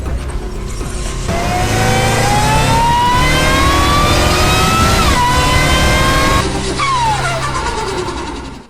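A 2023 Dodge Challenger Hellcat Jailbreak with a supercharged 6.2 L Hemi revs hard and close. The loud, sustained engine note climbs steadily in pitch, dips briefly, rises again, then falls away as the revs drop.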